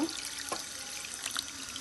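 Water is poured into a cooking pot for a hilsa fish pani khola curry, making a quiet, brief, close trickling splash with no voices.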